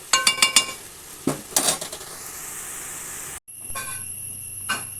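Onions and masala sautéing in ghee and coconut oil in a pan for Malabar-style chicken biryani, with a few sharp metal clinks of a spoon against the pan followed by a steady close sizzle.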